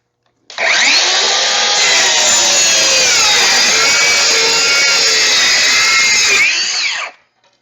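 Loud, close whine of a DeWalt 20V cordless circular saw cutting plywood on a small battery, one continuous cut of about six seconds with the pitch sagging under load, then winding down and stopping sharply.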